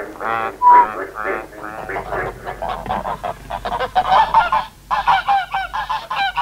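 Domestic geese on a farm in southern Sweden honk loudly and repeatedly in overlapping, harsh calls that fill the whole stretch, close by, with no talk.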